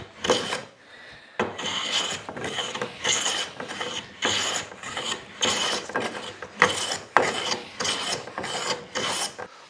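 Maple hardwood being sanded for a wooden Moxon vise, heard as repeated rhythmic rasping strokes, about ten in a row, each loud and close with brief pauses between them, and no voices.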